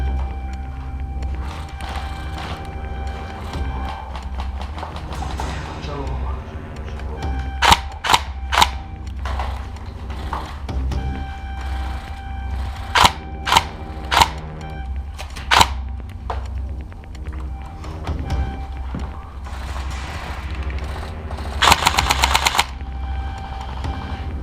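Airsoft guns fire during a milsim game, with sharp bursts of snapping shots at close range over constant outdoor background noise, coming in several separate clusters.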